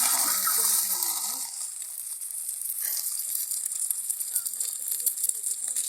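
Egg frying in hot oil without turmeric or chili, a steady bright sizzle that holds throughout, with faint voices murmuring underneath.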